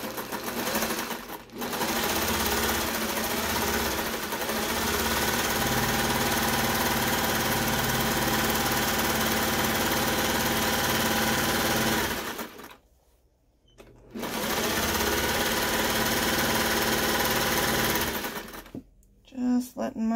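A sewing machine runs steady straight seam lines on bedsheet fabric for a poet shirt, with no backstitching, in long continuous bursts broken by two short pauses near the end.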